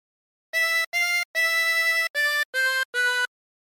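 Six sustained reedy notes of a tune played on a 24-hole tremolo harmonica, a slow melodic phrase with short gaps between notes, close and clear, with no talk.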